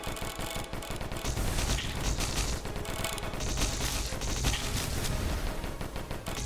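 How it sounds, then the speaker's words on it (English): A chain explosion in the video game DISFIGURE sets off a dense, continuous barrage of rapid blasts and crackling bursts, loud throughout and without speech. "Chain explosion, super nice."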